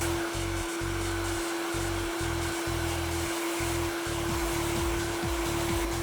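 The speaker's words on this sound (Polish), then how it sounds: "Włosy delikatnie podsuszamy za pomocą suszarki" A hair dryer blows steadily while drying hair, a constant loud airflow hiss with a whining tone, and a lower motor rumble that pulses on and off as the dryer is moved or its setting changes.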